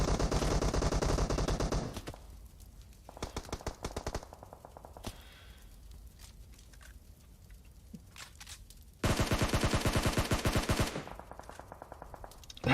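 Loud, sustained automatic gunfire rattles in a competitive online shooter match, long bursts broken by quieter stretches of scattered shots and echoes before another heavy volley.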